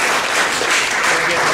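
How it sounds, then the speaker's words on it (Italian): Warm applause from an audience at an Italian poetry reading of prize-winning poems. Steady, dense clapping fills the whole moment at full strength, with no pause. "Un applauso."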